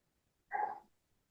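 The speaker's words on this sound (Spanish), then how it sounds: "sonado la campana con sonido de perro. Campana de perro." A single bell sound effect that sounds like a dog's bark rings out once, a short, clear, moderately loud burst that fades quickly into near silence.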